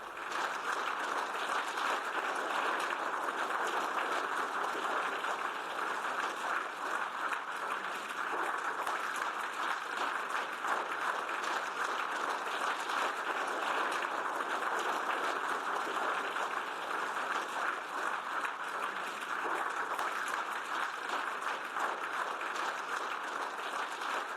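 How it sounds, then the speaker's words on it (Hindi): Sustained applause fills a European Union meeting hall after Zelensky's speech, a steady, even roar of many hands clapping at moderate loudness that continues without a break. "ज़ेलेंस्की के जाने के बाद तक तालियां बजती रहीं"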